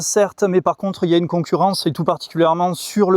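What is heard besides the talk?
No everyday noises stand out.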